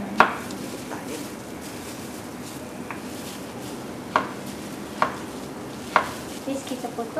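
Sharp knife taps on a cutting board at uneven intervals, a few isolated chops then a quick cluster, against a low background murmur.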